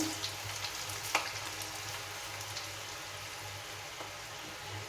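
Potato pieces frying in a pan over a high flame, giving a steady, moderately quiet sizzle with a few soft clicks and stirring knocks.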